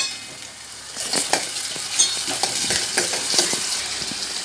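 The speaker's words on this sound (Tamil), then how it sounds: "சின்ன வெங்காயம் ஊற்றி நல்லா ரெண்டு ரெண்டாக கட் பண்ணி வச்சுருக்கேன். இதை வதக்கிக்கலாம்" Halved shallots sautéing in a pan for garlic kuzhambu, a steady close sizzle with repeated scraping stirs of a spoon.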